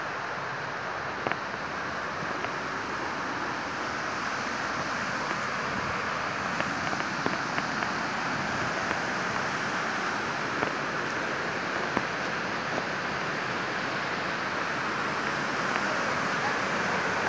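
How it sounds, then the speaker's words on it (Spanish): The Roberto Barrios waterfalls near Palenque, heard while approaching through large trees as a steady, even rushing roar that holds unchanged for the whole stretch. "Estamos llegando a las cascadas de Roberto Barrios."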